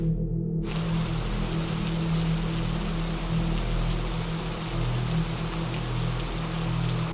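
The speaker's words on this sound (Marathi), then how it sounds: "बाहेर पडणाऱ्या मुसळधार पावसाचा आत झोपलेल्या रंगनाथन याच्यावर काहीच असर होत नव्हता." Heavy monsoon rain pours down outside at night, a dense, steady hiss of drops drumming on surfaces that holds constant and fairly loud throughout, with no voices.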